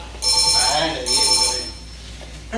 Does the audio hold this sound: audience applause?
no